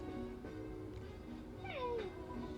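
Purrloin, the cat Pokémon, gives a short, rising-and-falling meow-like cry in a video game, faint and synthetic, heard once against quiet game background noise.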